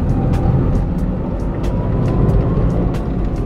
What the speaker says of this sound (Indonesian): Suara mesin kedengeran sih ini sampai ke dalam, apalagi kalau lagi digas